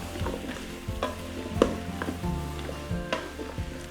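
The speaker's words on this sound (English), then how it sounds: "Give it a nice stir." Ham and split pea soup with bay leaves and dried thyme being stirred in a pot, a spoon scraping and clinking against the sides in several distinct strokes over a low simmering bubble, close and moderately loud.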